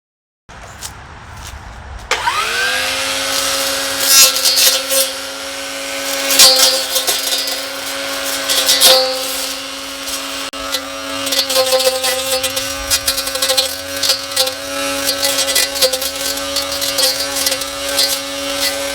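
A Wild Badger 4-in-1 cordless trimmer starts up after a short quiet moment, then runs as a loud, steady high-pitched motor whine with rattling bursts for the rest of the clip.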